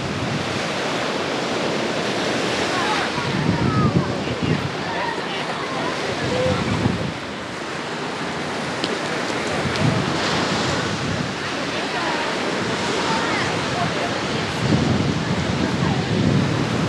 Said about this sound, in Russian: Давайте немного полюбуемся видом и послушаем звуки моря.